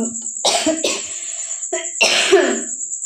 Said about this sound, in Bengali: মানে কত কিছু যে করছি এই কাশির জন্য